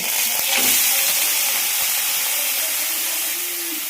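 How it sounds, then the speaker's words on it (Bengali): Vegetables fry in a little oil in a hot pan while a Bengali dish is cooked, giving a loud, steady sizzle and hiss with a few faint clinks and stirring scrapes. "অল্প তেল দিয়ে আমি এই যে এবার সবজিগুলো কষে নেব"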